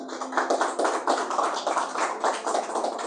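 Rhythmic clapping by a church congregation applauding Jesus during a Sunday evening service, steady, evenly spaced claps at moderate loudness, with a faint sustained tone underneath.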